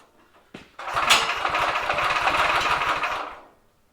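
A small drift trike engine catches with a pop and then runs at a rough, rapid putter for a few seconds before cutting out, close and loud.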